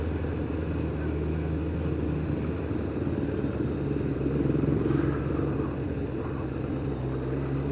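A Kawasaki ZZR 1100 motorcycle engine drones steadily while riding in heavy traffic, a continuous low rumble with wind noise that holds at a constant level and swells briefly partway through.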